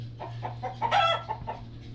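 A rooster lets out a crow amid soft clucking from nearby hens, with a steady low hum in the background.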